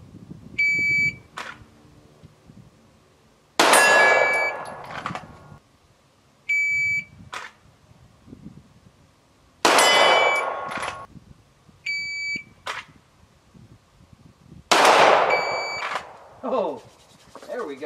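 Pistol shots from a Canik TP9SFL crack in three widely spaced bursts, each followed by a bright ringing of a steel silhouette target at 25 yards outdoors, with tones between and someone talking briefly.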